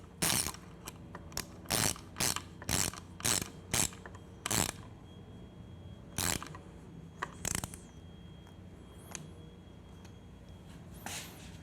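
A ratchet tool tightens a CRG bar end mirror on a Triumph Scrambler 1200, producing bursts of rapid clicking in a steady rhythm, close and crisp, with a few spaced single clicks afterward.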